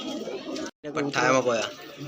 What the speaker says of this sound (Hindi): कुछ कबूतर पंजाबी मदरासी, ठीक है, पंजाबी मदरासी सेल के लिए हैं